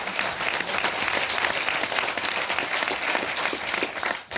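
Audience applause at a Mira Bhayander business meeting, steady dense clapping from a large crowd that holds throughout before a brief dip at the end.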